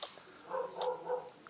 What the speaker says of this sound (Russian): это у нас собака лает